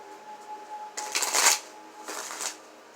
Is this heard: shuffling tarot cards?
yes